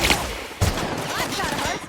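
Gunfire in The Outer Worlds, a few sharp shots and a burst over busy combat noise, with a voice talking through part of it.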